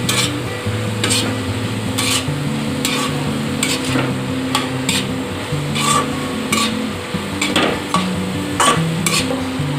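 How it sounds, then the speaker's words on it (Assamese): Spiced banana flower mixture is stirred in a pan with repeated scraping strokes of a spoon against the metal over a soft sizzle, the strokes falling in an uneven rhythm close by. "এতিয়া লৰাই দিছোঁ এইখিনি মই"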